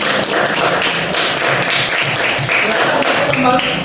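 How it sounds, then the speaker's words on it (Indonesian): Classroom group applause for group 3 of students, a dense run of hand claps and taps filling the room steadily, with children's voices mixed in underneath. "kita beri tepuk tangan untuk kelompok 3"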